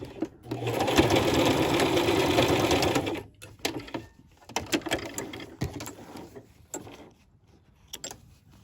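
A sewing machine stitches elastic inside a fabric face mask, a dense whirring run of about three seconds followed by short stop-start bursts and clicks as the work is adjusted.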